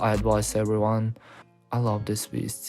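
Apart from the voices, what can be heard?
No everyday noise stands out behind the speech.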